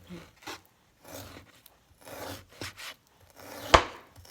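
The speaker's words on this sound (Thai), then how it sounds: "หั่นหมูหั่นเป็นสี่เหลี่ยมอย่างนี้จะหั่นง่ายนะคะ" A knife cuts pork into cubes on a cutting board with a handful of scattered, close chopping and scraping strokes, ending in one sharper, louder knock.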